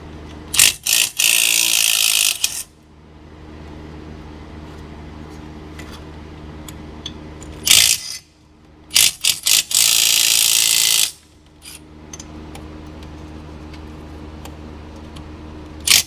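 A cordless impact wrench works on the front suspension bolts of a four-door Acura Integra, firing two long, loud hammering bursts and a few short blips over a steady low background hum.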